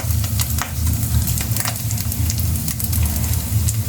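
Pork sizzles steadily in its own rendered fat for Bicol Express, a dense, continuous frying crackle with bright spatter pops throughout and no talking.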